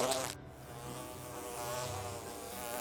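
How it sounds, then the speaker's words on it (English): Bees inside a recycling bin give off a steady, low, droning buzz at close range, preceded by a brief burst of noise. "I'm with the bees right now. They're in the recycling bin."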